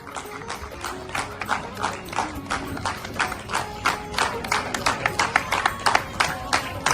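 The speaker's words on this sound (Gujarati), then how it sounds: "કેટલી તાળીઓ છે આ બધીઓ." Hand clapping from a seated audience at a community gathering of senior citizens in Bhavnagar, welcoming a president and his wife: a dense, steady run of claps holding at an even level throughout.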